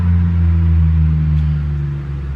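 Four-wheelers passing outside at night, a steady low engine drone that holds and then fades slightly, heard from inside a van.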